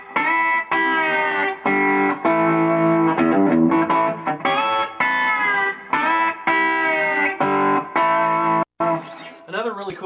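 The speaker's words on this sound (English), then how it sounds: "here's what it sounds like with the distortion" An electric guitar with a B bender plays a lick through heavy distortion, sustained bent notes and choppy phrases with short breaks, loud and close with no talking over it.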